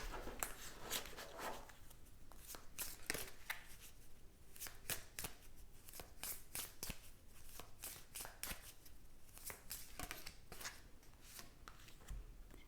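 Oracle cards shuffled by hand for a tarot reading, a steady run of crisp riffling and slapping bursts, close and fairly soft, with no talking.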